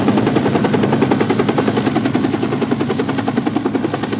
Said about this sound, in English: I need a helicopter dispatched to Lake Hemet.